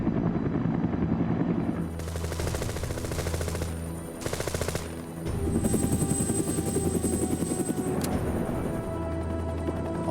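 A Huey helicopter's thick 44-foot metal rotor blades thump in a fast, steady rapid-fire beat over a loud turbine whine, close and continuous with slight shifts in tone throughout.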